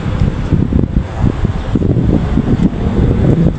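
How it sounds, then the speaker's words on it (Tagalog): Wind buffets the microphone outdoors beside the Philippine Arena building, a steady low rumbling roar with gusty swells that runs loud and unbroken for the whole stretch, with no voices. "dito naman sa aking video ang hangin"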